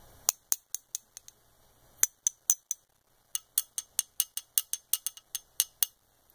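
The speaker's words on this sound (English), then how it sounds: "That's steel. Makes a distinctive sound." Sharp, bright metallic clinks from a steel piece sorted from bullet-casting lead ring out close by, a few spaced taps at first, then a quicker, fairly regular series of ringing strikes.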